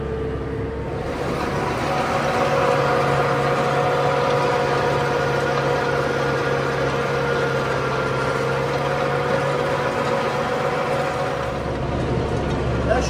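A small Case tractor running a rotary tiller in a field hums with a steady, moderately loud mid-to-low engine drone throughout, someone speaking over it at times.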